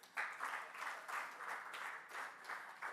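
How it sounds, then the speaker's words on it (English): Convention audience applauding, a sustained wash of many hands clapping at moderate volume with rhythmic swells, no speech over it. "Clap for Grace."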